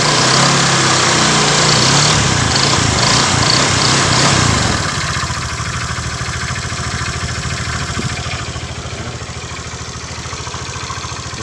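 A Honda Vario scooter engine, freshly reassembled after water pump work, revs loud and buzzing close by, then drops back to a steadier, quieter idle with no talk over it.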